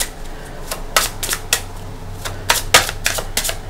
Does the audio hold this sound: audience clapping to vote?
no